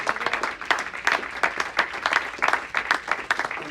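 A church congregation claps in a rhythmic, roughly even beat, moderately loud and close, with no voices over it.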